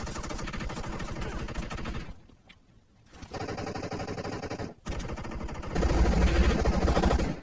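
Rapid bursts of automatic gunfire in PUBG Mobile, loud and continuous, broken by two short pauses, with a heavier volley toward the end.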